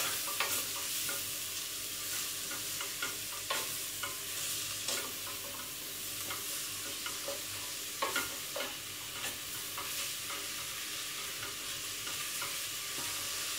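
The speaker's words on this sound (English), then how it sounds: "Give it a good stir." Vegetable bake ingredients are stirred in a hot pan, a steady soft sizzle with scattered scraping and clinking taps from the utensil, close and without talk.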